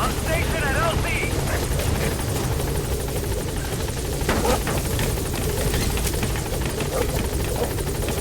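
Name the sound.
helicopter arriving at landing zone in video game Metal Gear Solid V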